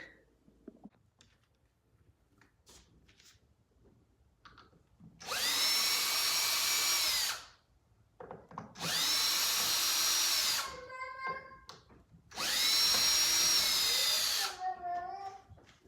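A power drill drives screws while door hinges are changed, three loud whirring bursts of about two seconds each separated by quiet pauses, with faint clicks and handling noise between them.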